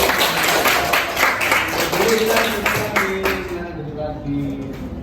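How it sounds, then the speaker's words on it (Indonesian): Classroom applause as students clap during a teaching session, a dense continuous patter of hands with voices talking over it throughout. "Oke, tepuk tangan buat kita."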